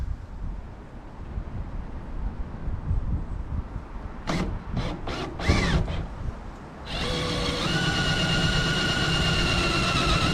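A power drill fitted with a 5/16 bit gives a few short bursts of whirring, then runs in a sustained high whine for several seconds, close and loud against a low background rumble.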